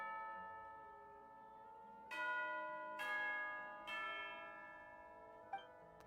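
A bell in the Genshin Impact video game rings for tea time, struck three times about a second apart, each deep, resonant toll overlapping the last before it fades, with no talk.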